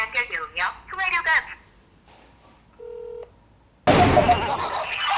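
A telephone call fails to connect: after a voice speaks, a brief dial tone beeps alone in quiet, then a loud burst of noise cuts in.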